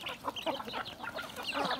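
Chickens clucking close by in quick, uneven bursts, with no one talking, at a spot in the Crocker Range.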